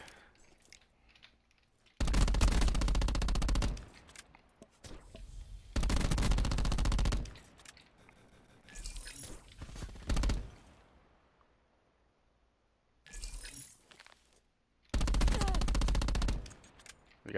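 Bursts of rapid machine-gun fire in the video game Black Ops 4, close and loud, come in several separate volleys of a second or two each, with quiet gaps and faint clicks between them.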